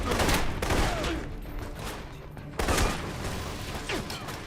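Dense gunfire fills a firefight in Alpha Protocol during a mission in Rome, with rapid overlapping shots, bursts and impacts rolling loudly throughout, broken by a sharper burst midway.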